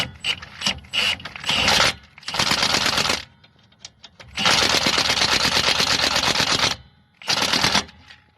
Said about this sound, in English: now we're putting the 12mm bolt back in that holds the brake line